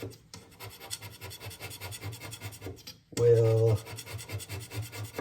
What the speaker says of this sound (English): And so what this scraping will do is it'll give the area a place for oil to sit